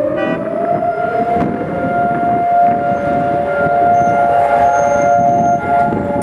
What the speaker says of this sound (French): Une fois par an, à Jérusalem, le temps s'arrête quand retentissent les sirènes.